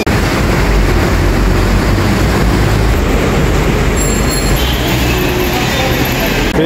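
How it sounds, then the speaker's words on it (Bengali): Dhaka MRT metro train arriving at an elevated station, a loud continuous rumble of rolling cars with a brief high squeal of wheels or brakes partway through. "ট্রেন আসবে আসবে আসবে, ওয়েট করো।"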